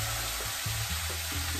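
Pork for a Cuban sandwich sizzles and fries in a pan, with faint hiss and a few soft stirring scrapes throughout.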